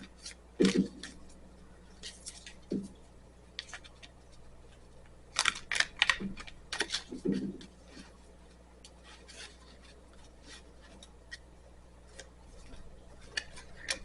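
Oversized tarot cards are shuffled by hand in a quiet room. Short, crisp riffling and snapping bursts come in uneven clusters, separated by near-silent pauses.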